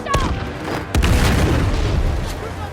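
A rocket launcher explosion in the video game Uncharted The Lost Legacy goes off as a loud, booming blast with a sharp onset that rumbles and sustains for a couple of seconds, close and dominant.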